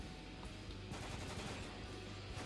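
Gunfire in the video game Spec Ops: The Line, a rapid burst of repeated shots with a sharp attack, heard at low volume with no talking over it.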